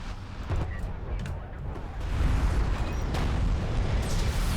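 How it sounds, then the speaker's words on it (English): Missile turret in a real-time strategy match launches missiles as anti-air fire, heard as a continuous rumbling roar of booms and bursts that grows louder partway through. "It's up now, firing those missiles already."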